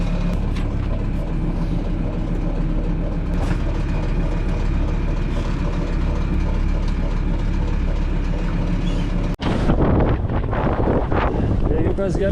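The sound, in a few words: strong wind blowing on a sailboat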